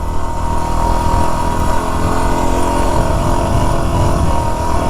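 Yamaha WR250-R dual-sport motorcycle riding along a country cross road, a steady loud engine drone mixed with heavy wind rush, continuous and close with no clear gear changes.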